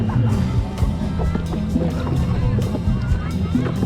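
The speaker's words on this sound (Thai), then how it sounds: "พายเรือให้ผมนะครับ" A small rowboat being paddled on the open sea moves on the water, with a steady wash of water and wind noise and voices talking over it throughout.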